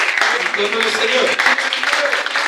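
A church congregation applauds in a dense, continuous patter of clapping, mixed with voices and cheering throughout, loud and close.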